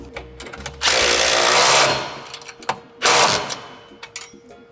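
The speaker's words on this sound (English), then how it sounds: "Once you get the 2 screws in, you can tighten up your bolt down here." Two loud bursts of a power tool whirring, about a second each with a pause between, tightening a bolt while installing side steps on a Mercedes Sprinter van, among light clicks and handling noises.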